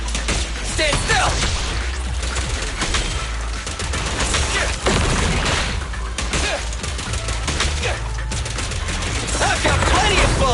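Rapid, continuous gunfire and impacts in a frantic video game battle, loud and busy throughout with little pause, mixed with game effects and character voice lines.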